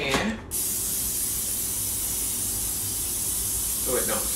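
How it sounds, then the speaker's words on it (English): A brief spray burst hisses at the start, followed by a long, steady broadband hiss like continuous aerosol spraying, with a faint click near the end. "I'm going to spray this pan."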